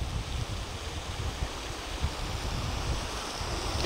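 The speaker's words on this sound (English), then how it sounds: "that's an interesting waterfall along the bridge." Water pouring over a small waterfall beside a road bridge on a Texas creek, a steady broadband rush that holds even and unbroken throughout, moderately loud and close, with no voices.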